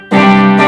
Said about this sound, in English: let's show them what the guitar sounds without the compression pedal